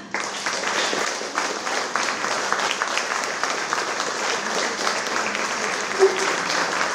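Dense, steady applause fills the hall at a children's competition awards ceremony as a trio from a Ukrainian lyceum is welcomed onstage, sustained clapping with a faint voice underneath.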